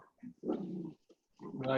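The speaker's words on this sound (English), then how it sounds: "Is that, whose dog is that? We all have dogs." A dog in a home gives two short bursts of barking or whining, fairly close but quiet, separated by a brief pause.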